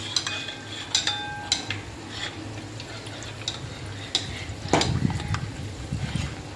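Gulab jamun frying in oil in a kadai over medium heat, a low bubbling sizzle under scattered sharp clinks and scrapes of a utensil stirring the oil.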